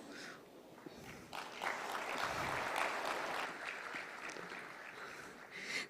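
An audience at a panel session on solar panel waste gives a round of applause, the clapping swelling quickly, holding for a few seconds and then tapering off, moderately distant in a hall.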